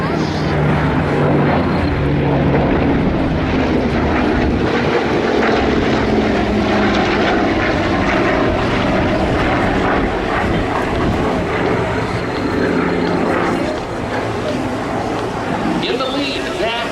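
The Flying Bulls' Douglas DC-6, a four-engine propeller airliner, drones past at an airshow with a loud, steady, throbbing engine roar, while an announcer speaks over it throughout.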